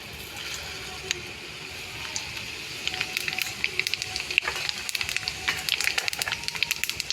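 Urad dal, cumin and mustard seeds hitting hot oil for Shivaratri pulihora, a close hiss that builds into dense crackling and rapid popping spatters over the last few seconds.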